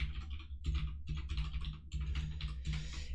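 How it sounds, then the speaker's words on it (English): Typing on a computer keyboard, heard as quick irregular bursts of close, crisp key clicks separated by brief pauses, with no speech over them. "Having an extraordinarily difficult time typing tonight."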